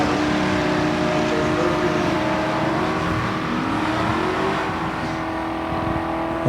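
Chevrolet vehicles, among them a 2006 Z71 Chevy truck, launch side by side off the starting line in a drag race at Lucas Oil Raceway, with a loud, steady engine roar and rising revs held throughout.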